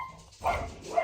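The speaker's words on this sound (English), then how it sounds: "Oh, sorry guys, that's my dog." A pet dog indoors gives a single short bark or yip partway through, fairly faint and in the background, with no talking over it.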